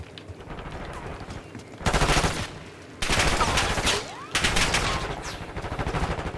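Bursts of automatic gunfire in Call of Duty Black Ops 6 during a free-for-all match, several loud sustained volleys separated by brief pauses, with steady rapid fire continuing quietly between them.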